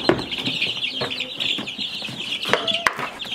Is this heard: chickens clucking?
yes